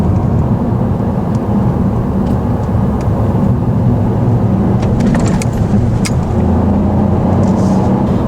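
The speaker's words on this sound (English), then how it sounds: "This 1 litre turbocharged EcoBoost engine with its 138 brake horsepower is more than enough you need really in a car this size." A Ford Fiesta ST-Line with a 1 litre turbocharged EcoBoost engine of 138 horsepower drives along, giving a steady, loud low engine and road drone that fills the whole stretch without talk.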